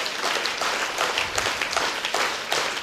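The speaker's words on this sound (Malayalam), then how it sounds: "നല്ല ശബ്ദത്തിൽ കൈയടിച്ചേ." A conference audience claps loudly together, a dense, sustained burst of applause from many hands filling the room without pause.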